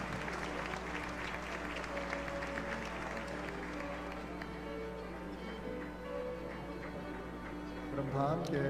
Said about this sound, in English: Let us give a big round of applause to our beloved True Mother.